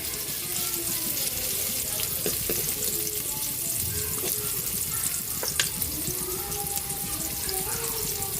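Onions frying in a pan for squid adobo, a steady loud sizzle and crackle running throughout, close up with occasional clinks.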